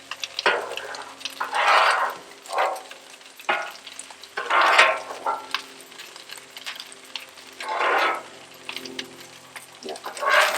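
Fried rice with vegetables and egg scraped and stirred across a hot Blackstone griddle, with repeated bursts of metal spatula scraping over a soft sizzle, each stroke close and distinct with short pauses between.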